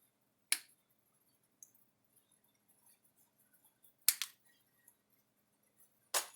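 Three sharp snips of cutters biting through the worn connections on a Gallagher fence charger's power cord, spaced apart and fairly quiet, with near silence in between.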